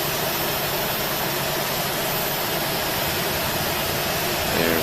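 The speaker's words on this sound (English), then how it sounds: "Engine's coming on." Airbus A320 engine number one spooling up in a flight simulator, a steady, loud broadband jet roar with a low rumble that holds constant throughout and swells slightly at the end.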